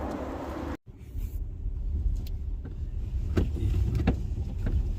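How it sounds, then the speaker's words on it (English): A 2021 Hyundai Santa Cruz rolls along with a steady low road rumble and engine hum heard from inside the cabin, broken by a brief dropout near the start and a few faint clicks. "this is a 2021 Hyundai Santa Cruz"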